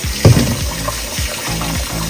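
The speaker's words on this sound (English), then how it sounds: "wash the rice, pour the water off, and go ahead and do it again" Water swishing and pouring as rice is rinsed in a pot and the water tipped off, a few close splashing pulses and gurgles with no talking.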